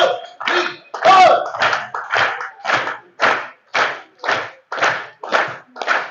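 An audience at a charity dinner in Swindon claps in unison with hands raised, about a dozen loud, evenly spaced bursts of applause in a steady rhythm.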